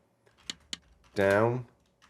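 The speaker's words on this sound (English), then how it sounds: "Oh, you can actually type it on the keyboard." A few separate keyboard clicks, two sharp taps followed by a brief harmonic burst, then quiet.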